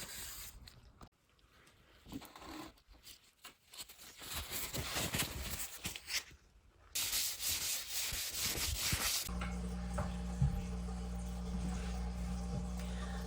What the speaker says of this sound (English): I gave it a little fine sanding after actually 3 coats of shellac.